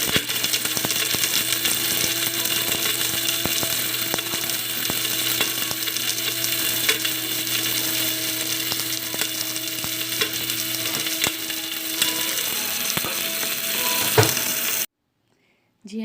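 Onions frying brown in a pot, a dense continuous sizzle with frequent clicks of stirring for most of the stretch before it abruptly cuts to near silence, no talking.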